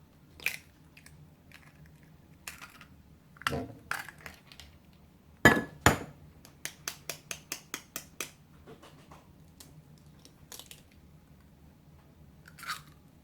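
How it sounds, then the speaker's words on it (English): A fork lightly beats two eggs in a bowl, giving a quick run of sharp, evenly spaced clinks against the bowl amid scattered softer taps and knocks, close and fairly quiet. "I'm taking my fork and I'm lightly beating the 2 eggs"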